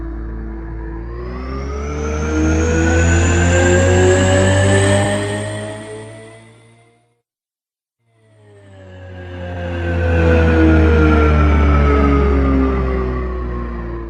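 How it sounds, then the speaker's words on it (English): The electric motors of a Lamborghini Revuelto V12 hybrid produce a loud, smooth harmonic whine that rises in pitch and then fades out. After a brief silence a second, similar swelling whine follows. There is no speech. "a leaked sound clip of the Revuelto's electric motors running came along."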